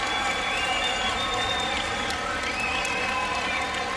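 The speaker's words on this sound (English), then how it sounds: "there's some very excited Swiss fans underneath us, I can hear cheering their heads off" A large stadium crowd cheers and applauds continuously at the finish of a men's 5000 m athletics final, with excited Swiss fans among them, forming a dense, steady roar with a commentator talking over it.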